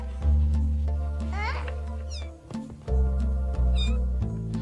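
Six-week-old kittens meow in several high, wavering cries over steady background music, close and clear, spaced across the scene.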